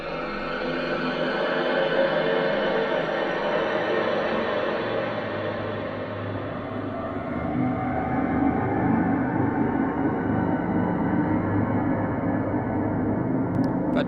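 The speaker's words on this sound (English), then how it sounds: "The Etherizer effect is particle verb, basically. It's basically a reverb made out of the sound itself." A dark synth drone in Absynth swelled by the Etherizer granular particle reverb, forming a dense, steady, airy wash that shimmers and builds slightly, continuous and moderately loud with no talking.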